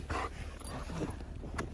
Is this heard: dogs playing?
yes